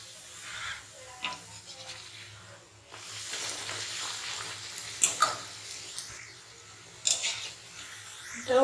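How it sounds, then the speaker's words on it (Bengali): Puri deep-frying in hot oil for aloo puri, with oil splashed over the top, giving a steady low sizzle and bubbling, with sharper spattering bursts now and then, close and fairly quiet. "আবারও সেম প্রসেসে তেল ছিটিয়ে ছিটিয়ে আমি ফুলগুলো তৈরি করবো।"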